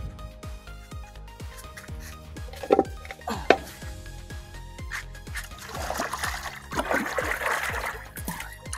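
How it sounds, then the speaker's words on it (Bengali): Water poured from a drum-filled container onto damp soil around a newly planted pineapple at home, trickling and splashing in uneven bursts with clinking of a vessel, fairly close and steady for several seconds. "মাটি ভেজা, তাও আমি একটু জল দিয়ে দেব,"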